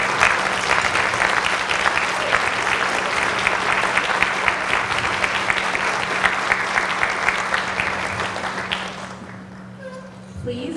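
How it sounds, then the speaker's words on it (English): Loud, sustained applause from a large crowd fills the space, clapping steadily before fading away near the end. "Please join me in giving them a round of applause."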